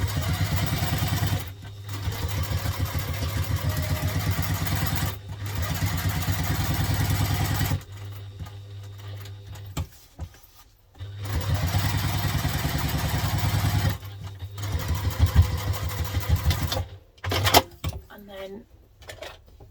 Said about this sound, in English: as close as we can, we're just going to baste around the edges